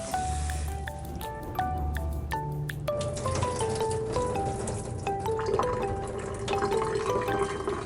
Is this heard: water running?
yes